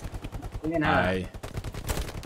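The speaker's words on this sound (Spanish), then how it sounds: "disparos por todos lados" Bursts of rapid gunfire and scattered shots in the World War II shooter game Hell Let Loose, a dense crackle of automatic fire with a drawn-out tonal blast in the middle, all fairly loud.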